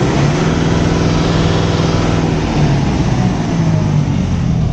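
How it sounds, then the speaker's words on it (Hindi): A Kubota MU 5502 turbo tractor engine is held at full throttle around 2500 RPM, giving a loud, steady, close diesel roar with a low droning hum that stays constant throughout, with no talking. "तो भाई फुल आरपीएम देख लेते हैं कि कुबोटा कितने देती है।"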